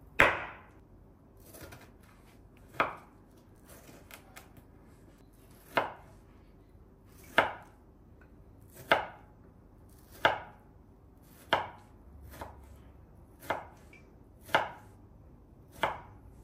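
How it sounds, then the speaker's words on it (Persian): Fruit being cut with a knife, eleven crisp, close slicing chops in a steady, unhurried rhythm over a quiet background, with no talk. "بیام بریم میوه رو کت کنیم."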